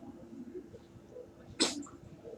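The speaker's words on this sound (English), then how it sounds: "Sorry, I had to sneeze." A single short, sharp sneeze stands out near the end against a faint, murmuring indoor background during an online coding lesson.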